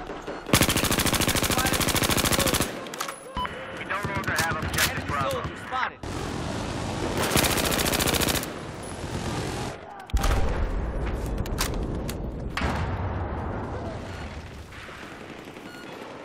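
Loud bursts of gunfire in Battlefield 4, including an SKS rifle fitted with a heavy barrel, come in dense rapid volleys separated by brief pauses, with battle noise and booms around them and a voice talking at times.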